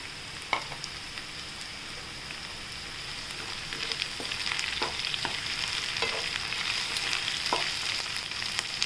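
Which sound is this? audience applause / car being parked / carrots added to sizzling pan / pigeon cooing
carrots added to sizzling pan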